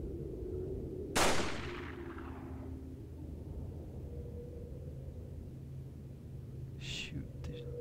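A single sharp gunshot in Resident Evil 4 rings out with a short decaying tail, followed by quiet game ambience and a faint metallic ping a few seconds later.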